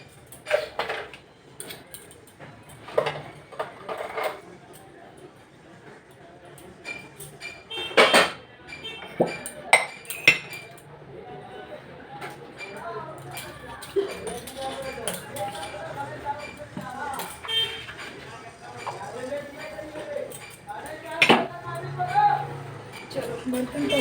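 Dishes, pots and cutlery knock and clatter in a home kitchen sink as they are washed, with irregular clinks and thuds heard close by while someone talks over them.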